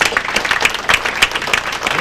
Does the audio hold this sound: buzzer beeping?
no